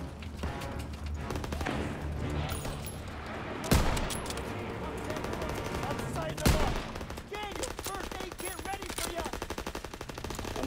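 Sustained rapid automatic gunfire from Call of Duty: WWII, dense, loud and continuous, with two sharper, heavier shots standing out partway through.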